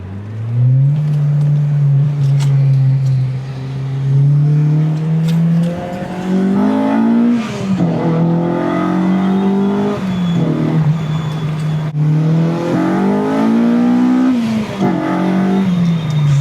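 A car's engine revs and accelerates repeatedly on a drive home, rising and falling through several gear pulls, loud and close with steady road noise and no talking.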